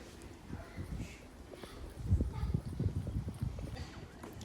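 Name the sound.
horse hooves trotting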